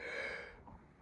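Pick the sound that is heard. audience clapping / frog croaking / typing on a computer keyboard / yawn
yawn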